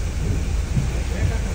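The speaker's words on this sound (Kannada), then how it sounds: "ಫುಲ್ ಜೋರು ಮಳೆ ಇದೆ" Heavy rain pours down steadily in a dense, close wash of noise with a low rumbling undertone, continuous throughout without pause.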